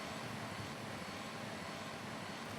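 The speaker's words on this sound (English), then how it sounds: "I hear a drone." An enemy drone flies in Rise of the Tomb Raider, giving a steady, broadband engine whir that holds at an even, moderate level for the whole stretch with no talk over it.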